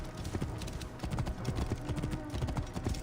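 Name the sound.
horses' hooves from riders on horseback in video game Assassin's Creed Origins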